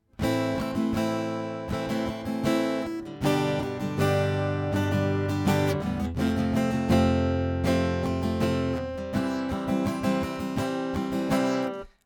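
Busy sixteenth-note guitar strumming, dense and rhythmic with accented chords, played up close with no talking.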